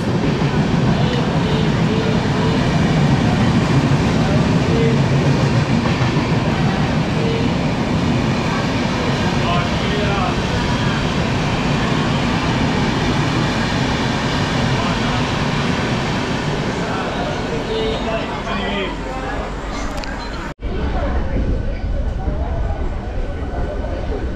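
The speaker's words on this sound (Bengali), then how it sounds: "একদম 7টা বেজে 2 মিনিটে আমাদের ট্রেন পাঁশকুড়া থেকে ছেড়ে দিল" A local train pulling out of Panskura station runs with a loud, steady rumble of wheels and carriages throughout, ending in a brief sharp break near the finish.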